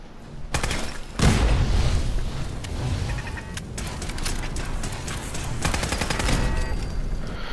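Laser turret fire in a Fallout game, repeated sharp bursts and crackling zaps against a dense, noisy combat backdrop, loud and close throughout.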